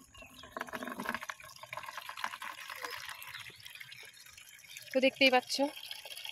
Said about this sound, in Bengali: তো দেখো এদিকে এগুলো গামলা ভরছি, আর ড্রামটাকেও ভরে নিই ভাবলাম।